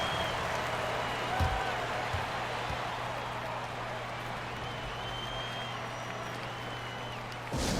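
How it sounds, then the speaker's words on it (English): Steady crowd noise and applause in an NBA 2K24 basketball game between TNT Tropang Giga and Barangay Ginebra, a dense constant roar that holds through the whole stretch with faint rises, no clear talk over it. "Fans, please give a big round of applause for your youth dance squad."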